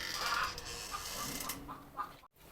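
Desi hens cluck in short, scattered bursts over a noisy poultry farmyard background, fairly close, with a brief gap near the end.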